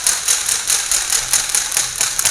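A hand-cranked rattler once used at a railway station to summon staff rattles rapidly and harshly up close, a dense clattering in quick regular bursts.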